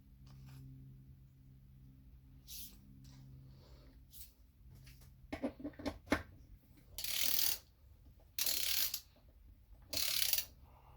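A torque wrench tightens bolts on a 1998–2002 Honda Accord transmission being rebuilt, making quiet scattered ratchet clicks that grow into three louder bursts of rapid ratcheting near the end, in a quiet workshop.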